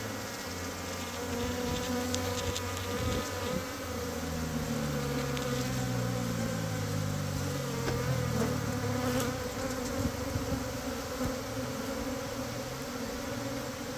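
Wild cavity-nesting bees swarming at an open hive in the forest, a dense, loud, continuous buzz close by with droning tones that shift in pitch, and no talking.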